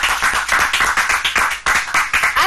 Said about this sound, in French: Allegra, sous vos applaudissements.